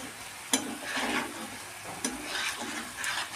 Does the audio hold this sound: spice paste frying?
yes